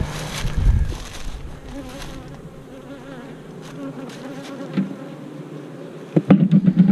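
Honeybees buzz steadily and densely around an opened hive during a honey harvest, a continuous close drone with occasional knocks and handling noises toward the end.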